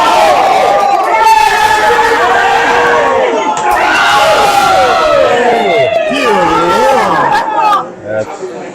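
A crowd at a Halloween wrestling show shouts, chants and cheers loudly and continuously, with excited overlapping voices filling the whole stretch before a brief dip at the end.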